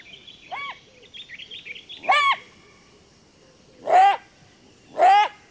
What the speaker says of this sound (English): The jackal's barks mean that large predators are on the prowl.